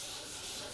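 Steady, close abrasive rubbing of sandpaper flattening a shellac finish on mahogany, a continuous hissing scrape that lasts under a second with no pauses.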